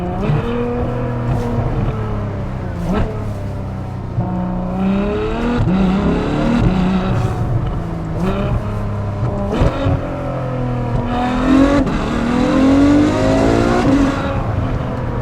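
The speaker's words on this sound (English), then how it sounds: "Okay, it's a 7-speed dual clutch transmission." A Ferrari F12 Berlinetta accelerates hard through its 7-speed dual-clutch gearbox, the engine note climbing steadily and snapping down at each quick upshift, repeating in a rising rhythm over about fifteen seconds with nothing else heard.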